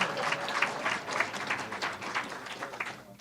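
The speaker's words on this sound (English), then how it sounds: "You can clap for him." Audience at a police department promotion ceremony claps for a promoted officer, a dense, steady round of applause from many hands that fades slightly toward the end, with no speech over it.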